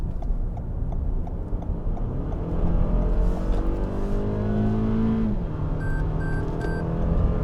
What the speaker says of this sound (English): Merging onto the highway here